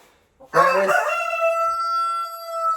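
A rooster crows loudly and close, one long drawn-out call that holds its pitch before fading.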